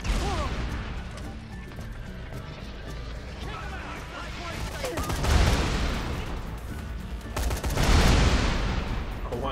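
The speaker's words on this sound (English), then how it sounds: "Give me that assault rifle." Assault rifle fire against enemies in Dead Rising 3, with rapid bursts swelling into two loud rattling volleys over game noise, and a voice talking in between.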